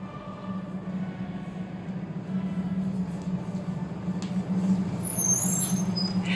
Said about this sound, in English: Getting the bus back to the nearest station